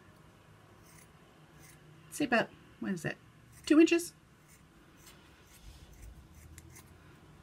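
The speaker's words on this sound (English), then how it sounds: "you take your scissors, and you just cut" Scissors snip through the end of a short fuzzy sock, two or three close crisp cutting bursts with a voice talking nearby.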